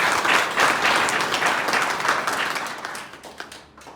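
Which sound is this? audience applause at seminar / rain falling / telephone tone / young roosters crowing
audience applause at seminar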